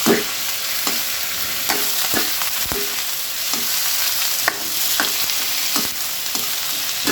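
Shrimp frying and being stirred in a pan for a coconut milk dish with moringa, a steady close sizzle broken by repeated scraping stirs and light clacks of the utensil.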